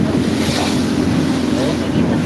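Ocean waves and fast-moving sea water during a boat trip off the coast, a loud, steady rushing wash with wind buffeting close to the microphone throughout.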